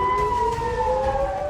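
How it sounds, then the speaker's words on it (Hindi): An air raid siren in Israel wails with a steady sustained tone that slowly slides downward, loud and continuous over a low background rumble. "इजराइल में पूरी रात सायरन बजे।"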